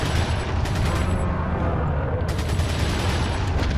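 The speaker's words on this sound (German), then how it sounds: "Immer schön auf den Kopf schießen." Gunfire in the video game Resident Evil 4, a dense, loud barrage of shots and impacts that fills the whole moment with little pause.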